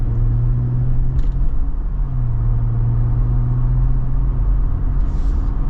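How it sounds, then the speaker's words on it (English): Steady low road and tire roar inside a 2024 Jeep Wrangler Rubicon Xtreme Recon fitted with 35-inch tires, a continuous droning hum with no talk over it. "Yeah, there's definitely more tire noise"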